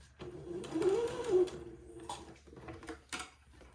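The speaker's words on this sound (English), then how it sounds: "I'm sewing right to the right of the entredot ladder" A sewing machine stitches a baby daygown beside an entredeux ladder, a fairly close mechanical whir that runs in short bursts with brief stops and small clicks between them.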